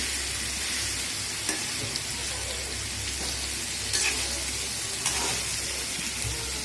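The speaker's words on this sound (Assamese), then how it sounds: "এনেকৈ ধুনীয়াকৈ তেলত মিক্স কৰি ল'লোঁ মছলাখিনি আৰু মাংসখিনি উঠলি আহিছে" Chicken pieces and spices for a chicken curry sizzle loudly in hot oil, a continuous close-up frying hiss broken by a few scrapes of stirring.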